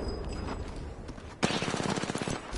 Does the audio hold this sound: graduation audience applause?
no